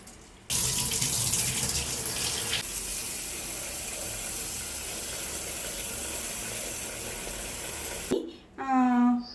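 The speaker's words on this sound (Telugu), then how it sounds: "వాటర్ నార్మల్గా వచ్చినంత వరకు క్లీన్ చేసుకోవాలండి" Rice soaked for fish biryani is rinsed under a running tap, a steady close splash of water in a sink that lasts several seconds before stopping abruptly.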